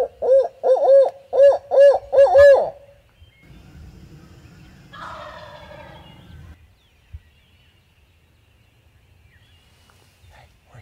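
A wild turkey gobbler sounds off in pine woods, a loud series of five or six rapid rolling gobbles over about two seconds, followed by quieter rustling and low background noise with no talk.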